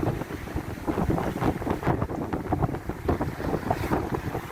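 Ocean waves crashing in on an incoming tide, a continuous loud rush of surf churning close by, mixed with heavy wind buffeting the microphone.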